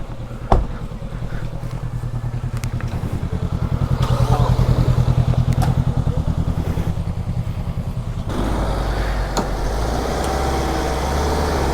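A Shogun 110 cc, 14 horsepower motorcycle idles and revs nearby with a loud, steady rattling thrum that swells in the middle, marked by a sharp knock early on and a shift in tone near the end.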